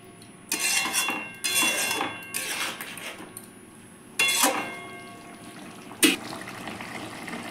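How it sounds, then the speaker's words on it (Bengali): Spoon scraping and knocking around a pot as garam masala is stirred into aloo dum, several separate scraping strokes with pauses and a sharp clink near the end, close with no talking. "ভালো করে গরম মশলাটা আলুর দমের মধ্যে মিক্স করে দিচ্ছি।"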